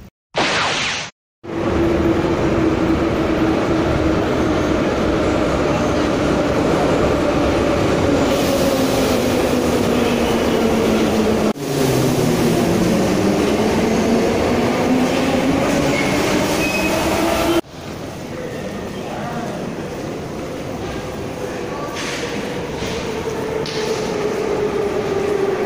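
A Moscow metro subway train riding, with a loud steady rumble of the car in motion, rising and falling whine tones as it accelerates and slows, and a drop in noise partway through, no talk heard.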